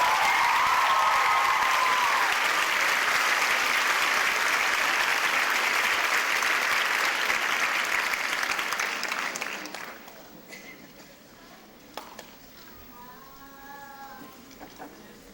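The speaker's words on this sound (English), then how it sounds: "Big round of applause for our second runner-up in our 2007 Miss Strassenfest pageant." Crowd applause for the second runner-up of a small-town festival beauty pageant, loud sustained clapping and cheering that fades out after about ten seconds, leaving quiet room noise with a few faint voices.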